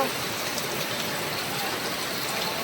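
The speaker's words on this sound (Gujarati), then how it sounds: "એટલો વરસાદ આવી રહ્યો છે અહીંયા નીચે" Heavy rain pours down in a steady, dense hiss that stays loud and unbroken throughout, with no voices standing out.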